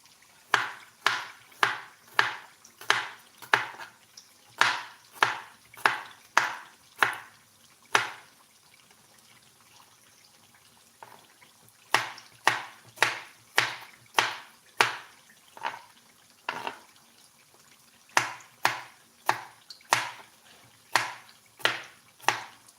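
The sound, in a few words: slicing garlic with a knife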